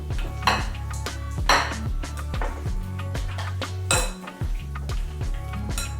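Hands mix seasoned shrimp in bowls, giving a steady stream of wet squelches and light clinks against the bowl, close by and continuous, with no talking.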